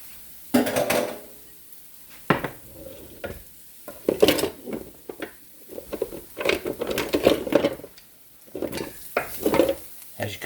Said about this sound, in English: As you can see, it's sizzling.